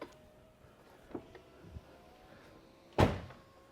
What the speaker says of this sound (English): And if I quickly kind of close the doors.